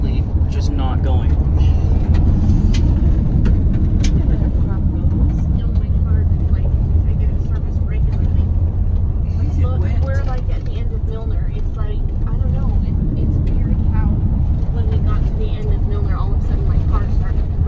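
A car drives steadily with a loud, continuous engine and road rumble filling the interior, while people talk over it throughout.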